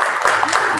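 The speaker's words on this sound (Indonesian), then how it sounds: "Tepuk tangan." A class of schoolchildren bursts into brief applause in a primary school classroom, a dense, close burst of many small hands clapping together for under a second, no speech over it.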